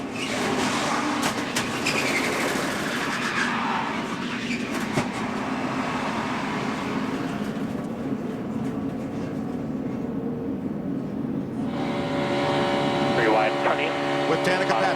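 Onboard view from Aric Almirola's NASCAR stock car at the 2014 Daytona 500, a steady, loud engine roar and road rumble filling the whole stretch with a raw broadband wash.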